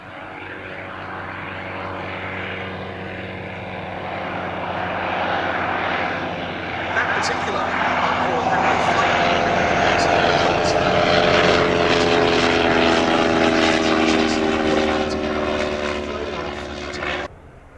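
Vintage propeller aircraft, a Bristol F.2B Fighter and a Sopwith Triplane, fly at an airshow with a steady, loud droning engine that swells and shifts in pitch as it passes, while a commentator talks over it.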